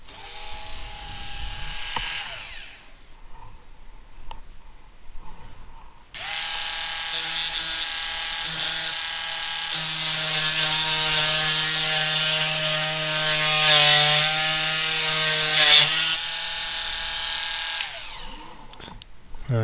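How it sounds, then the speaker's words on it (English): A power drill whines steadily for several seconds, its pitch wavering slightly as it bites into a Magnum acoustic guitar, with a brief quieter buzz before it starts. "this is my attempt at drilling."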